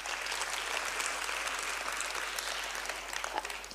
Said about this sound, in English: So a round of applause to all of you